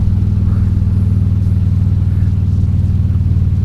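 A motorcycle riding along a road near Slippery Rock, Pennsylvania, its engine producing a steady, loud low rumble that holds evenly throughout with no talk over it.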